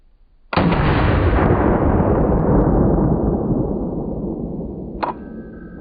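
A full-power 5.56 blank fires about 12 inches from a dummy head: one sudden, very loud blast with a long, rolling decay, then a brief sharp click near the end.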